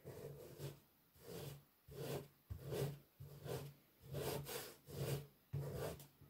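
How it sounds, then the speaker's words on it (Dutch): Paper being rubbed off a wooden surface by hand, about nine rhythmic back-and-forth scraping strokes, close and faint with short gaps between them. "Ik zie dat ik het hele papier eraf wrijf."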